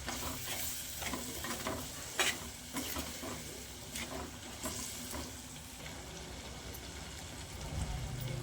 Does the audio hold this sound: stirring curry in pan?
yes